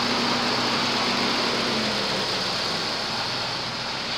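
A Volkswagen Parati engine idles unevenly, a steady close mechanical hum with a faintly wavering low drone running continuously, no talking.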